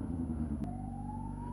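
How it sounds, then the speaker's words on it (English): A distant ambulance siren rises slowly in pitch over a constant low traffic rumble, faint and drawn out. "I got an ambulance."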